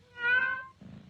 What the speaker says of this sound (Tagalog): pusa yan